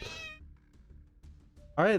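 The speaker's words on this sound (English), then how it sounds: "My cat is interrupting me." A house cat meows loudly and close at the start and again at the end, with a quiet voice murmuring in between.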